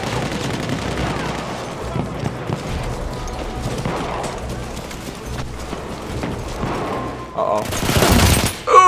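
Gunfire in a first-person shooter video game, a dense spread of rapid shots running throughout and swelling into a louder, harsher burst near the end, with players talking over the action.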